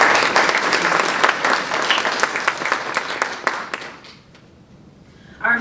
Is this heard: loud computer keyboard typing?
no